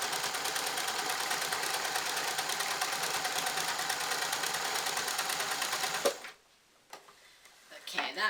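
A sewing machine stitches trousers in a steady, fast mechanical whir for about six seconds, then stops abruptly, leaving faint handling clicks and quiet room noise.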